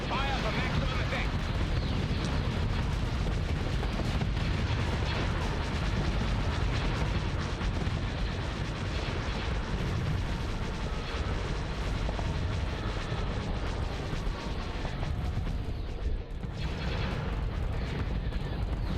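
A weapons barrage in the space combat game Starsector keeps up a dense, continuous rumble of booming fire and explosions that fills the whole stretch, with a voice talking over it.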